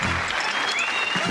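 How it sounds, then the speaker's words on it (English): A studio audience on the Bullseye game show breaks into loud, dense applause that holds steady throughout the short moment, with a faint voice briefly underneath. "Give them a round of applause that way."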